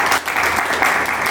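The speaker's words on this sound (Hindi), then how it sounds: "तो इनके लिए ज़ोरदार तालीम।" An audience at a Rotary Club women's day debate competition in Solan breaks into a brief, dense burst of applause that fills the room.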